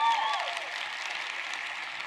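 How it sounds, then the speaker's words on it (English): Faint, distant applause from the crowd at a Juice Plus+ live event, a thin steady patter of clapping that carries on for a couple of seconds without any standout claps. "Give her a round of applause."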